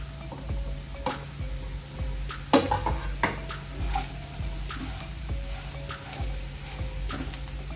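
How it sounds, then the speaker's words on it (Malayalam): Chinese potatoes (koorka) fry and sizzle in a hot pan while a spoon stirs them, giving a steady close sizzle broken by scraping and clinking strokes, with no talking. "ഇനി ഇതിലോട്ട് നമ്മളിപ്പോൾ ഈ റെഡിയാക്കി വെച്ചേക്കുന്ന കൂർക്കയില്ലേ അതിട്ട് കൊടുക്കാം."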